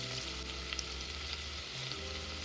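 Onion, garlic and scallion fry in butter in a pot, giving a steady, even sizzle that continues without pause, fairly quiet and close.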